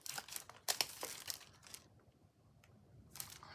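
Packs of puffy stickers are handled and crinkled up close, bursts of plastic rustling that fade to a near-silent pause before a last short crinkle.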